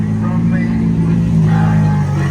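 Lamborghini engine revving steadily at a car show, a loud sustained drone held for the whole stretch with some crowd voices underneath.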